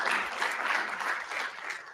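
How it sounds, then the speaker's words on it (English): An audience at a city council meeting gives a short, lively round of applause, many hands clapping together in a dense, steady burst. "Let's give her a round of applause."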